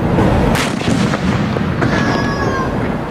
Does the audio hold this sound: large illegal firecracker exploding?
yes